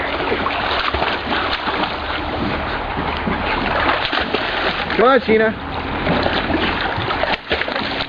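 A dog splashes about in water near a bank, with a brief sloshing burst amid steady wind buffeting the microphone, while a person calls to the animal.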